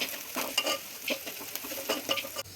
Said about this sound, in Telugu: ఉల్లిపాయలు వేసాక మంచిగా వేగాక కరివేపాకు కూడా వేయాలి.